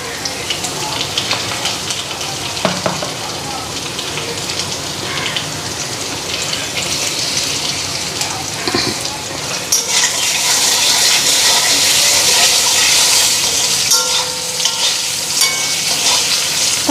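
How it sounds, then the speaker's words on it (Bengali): Potatoes fry in a hot pan with a steady, dense sizzle, louder in the second half, with occasional stirring scrapes and faint background sounds. "আলুটা হালকা ভাজা হয়ে গেছে, বেশি ভাজা করব না,"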